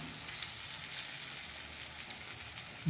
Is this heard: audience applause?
no